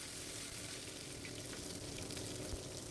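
Ginger-cumin paste with cumin seeds, panch phoron, bay leaf and a dried chilli fries in a pan, giving a faint, even sizzle that crackles steadily throughout with no voices.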